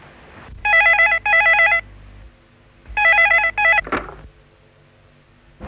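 A telephone rings loudly in two bursts of electronic double trills with short gaps between them, followed by a brief clatter as the handset is picked up.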